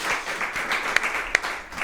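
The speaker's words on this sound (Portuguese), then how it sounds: "uma salva de palmas para o Miguel" Applause from an audience at a live breakfast talk event, a steady patter of clapping that holds for the whole moment with a couple of sharper claps standing out, no voices on top.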